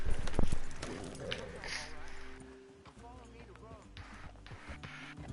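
Horse hooves clip-clop in Red Dead Redemption 2, an irregular run of hoof thuds mixed with game ambience, while a voice talks over the scene.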